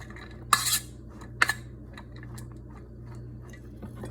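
A utensil scrapes and clinks against a dish while stirring a zucchini spaghetti bake cooked in a sun oven, two sharp knocks standing out over softer scraping and a steady low hum.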